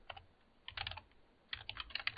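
Quiet bursts of clicky keystrokes on a computer keyboard, two short typing runs separated by a pause, close and alone.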